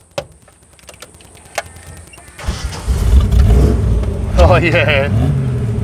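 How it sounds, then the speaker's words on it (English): A 1978 Toyota Land Cruiser FJ40 shorty with a V8 swap and many modifications starts up after a few clicks and settles into a loud, rumbling idle close by, with a brief spoken remark over it. "Let's hear the sound of the V8."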